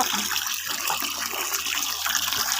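Tap water runs steadily while green chillies are rinsed for cooking, a continuous close splashing hiss under a faint kitchen background, with no talking.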